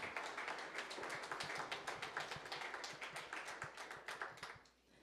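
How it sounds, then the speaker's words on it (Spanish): A church congregation claps rapidly and steadily in an energetic burst of applause that tapers off at the end, faint and somewhat distant, with no talking over it. "denle fuerte ese aplauso a Dios"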